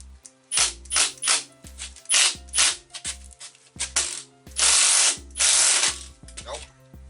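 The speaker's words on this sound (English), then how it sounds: "we're going to try to hit with the impact a few times." An impact wrench hammers on a welded stud in about nine short, loud, rattling bursts separated by brief pauses, the last two running longer.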